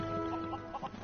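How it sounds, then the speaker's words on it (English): Chicken clucking in the video game Lego Worlds, a few short soft clucks over a steady game background hum. "Discover the chicken, the mighty chicken that will help me get on my quest."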